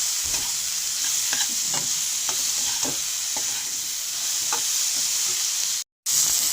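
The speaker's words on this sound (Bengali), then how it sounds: "আমি মশলার সঙ্গে ভালো করে কষিয়ে নেব।" Fish, potato and eggplant sautéing with spices in a pan, a steady close sizzle with scattered stirring scrapes and clinks throughout, broken by a brief silent gap near the end.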